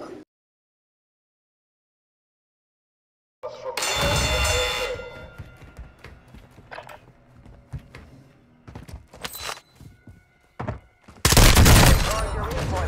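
Gunfire in Warzone 2, bursts of rapid shots after a silent start, loud clusters and scattered single cracks with a heavy final volley, mixed with someone talking.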